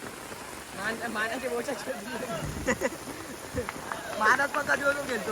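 Rain falls steadily through an outdoor cricket game played in a downpour, a constant hiss of drops under ongoing talk and shouts from the players.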